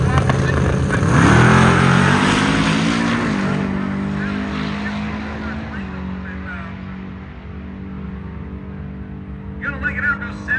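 A 1964 Triumph Spitfire fitted with an LS engine launches down a drag strip, its loud engine note rising sharply through the gears and then holding a steady high-revving roar as it pulls away, with a brief rattle near the end.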